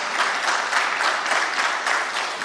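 Sustained applause fills a hall during the 2021 Anambra governorship debate, a dense, even patter of many hands held at a steady moderate level throughout.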